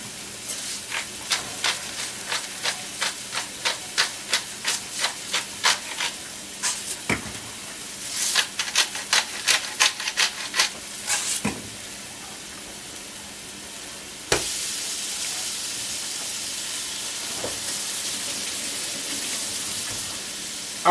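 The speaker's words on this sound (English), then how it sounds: "I love the sizzle. The sizzle is my nizzle." Chicken fajitas sizzling in a pan over medium heat, a hissing crackle with a run of rhythmic clicks and clatter from stirring, then a steadier, louder sizzle.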